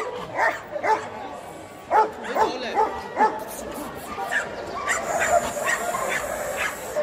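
At a dog market, a puppy gives a string of short yips and barks mixed with whimpers, close to the listener, amid crowd noise and people talking.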